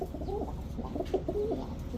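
A pair of milky khaki pigeons, a male and his female, coo in soft repeated low calls over a steady background hum, moderately close and fairly quiet.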